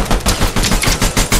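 Rapid automatic gunfire from a Fortnite Chapter 5 Season 1 match, loud, close bursts of evenly spaced shots repeating about every fifth of a second with no talking over them.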